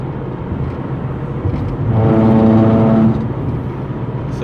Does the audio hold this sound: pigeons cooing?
no